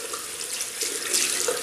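Warm water runs from a shower onto a shaving brush, a steady close hiss of spray with slight splashy fluctuations, no voices over it.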